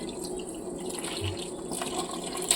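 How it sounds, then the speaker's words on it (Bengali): Hot water pours from a tap or kettle into a pot lid to soak it clean, a steady close-up splashing stream that runs throughout without talk. "আর এর মধ্যে দিয়ে দেবো গরম জল।"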